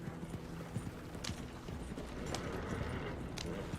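Horse hooves gallop at a steady running rhythm in Red Dead Redemption 2, a fairly faint, continuous stream of clip-clop beats with no voice over them.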